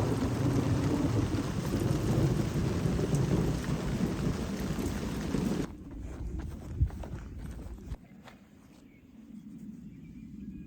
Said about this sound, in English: We had quite the rainstorm here, pretty crazy. Lots of thunder and lightning.